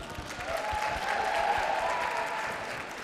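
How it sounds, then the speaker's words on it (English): A crowd of students applauds at a National Student Pride event, a steady, moderately loud wash of clapping that holds for a few seconds, with a faint voice underneath. "give yourself a round of applause"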